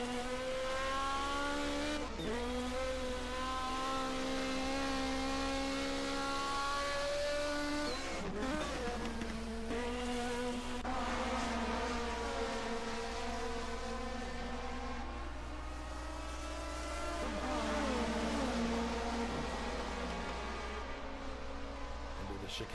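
Division 2 racing cars from the 1979 German racing championship at the limit on a circuit: several engines drone together without a break, their pitch climbing and dropping as they pass through corners and change gear, steady and fairly close.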